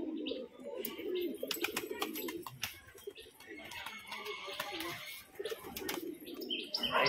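A female pigeon coos in low repeated throaty calls close by, with wing flaps and chirps from other birds and a person talking over them.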